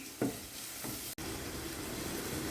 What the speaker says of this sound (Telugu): ఆనియన్ తొందరగా ఫ్రై అవుతుంది